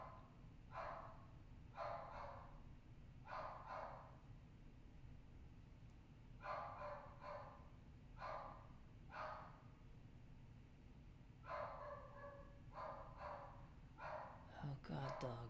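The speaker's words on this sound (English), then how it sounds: "Oh god, dog, shut the hell up." A dog barks in muffled, distant bursts of two or three barks, repeated several times over a low, constant indoor hum.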